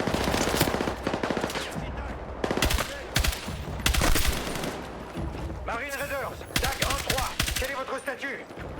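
Heavy gunfire erupts in a Battlefield 6 campaign mission where secret service agents guard the president's limousine, with rapid machine-gun bursts and loud close shots clattering in dense, overlapping volleys.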